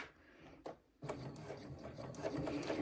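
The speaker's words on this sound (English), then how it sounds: "I'm just going to sew straight down this side towards the rectangle ring" Domestic sewing machine stitching straight down a multi-layer crossbody bag strap toward a rectangle ring; a short start-stop, then steady continuous whirring with rhythmic needle chatter, close and moderately loud.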